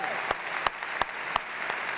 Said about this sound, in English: let's give her them both a round of applause